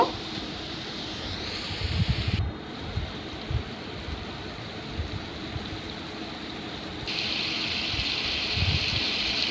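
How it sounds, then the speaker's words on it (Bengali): Water gushes and splashes into a pot of spiced potato and papaya curry at a moderate level, with soft knocks and a steady watery rush throughout. "তো সামান্য কিছু পানি দিয়েছি"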